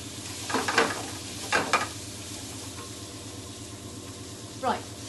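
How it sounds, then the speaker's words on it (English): Potato and cauliflower fry in oil with spices, a soft continuous sizzle under a low hum, broken by a few scraping stirs of the pan at irregular intervals. "we don't have to watch this sizzle for 20 minutes"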